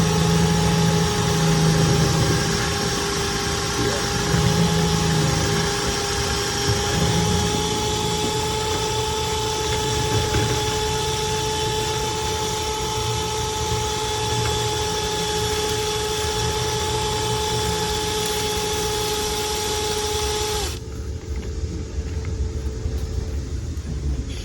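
Drill spinning a cleaning brush inside a dryer vent, a steady loud whirring hum with constant tones that runs continuously, then drops in pitch and level near the end.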